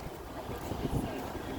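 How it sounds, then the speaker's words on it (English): Steady wind buffets the microphone outdoors on a path near the Alamo in San Antonio, a continuous rushing roar with no talk. "Why is the wind blowing?"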